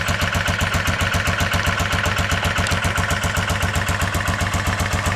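A warmed-up 1988 Kawasaki Vulcan VN750 motorcycle idles steadily up close, a loud, even, rhythmic thrum with mechanical clatter and no voices.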